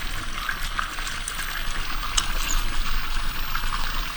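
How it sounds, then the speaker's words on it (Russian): Lemon juice trickles and drips steadily from a squeezed lemon, close and fairly quiet, in a continuous liquid patter. "Лимонный сок."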